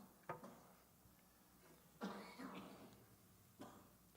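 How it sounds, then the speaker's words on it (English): A man coughs three times in a quiet room at an evening Bible study, the sharp bursts spaced a second or more apart, faint and slightly distant. "Struggling tonight with the coughing"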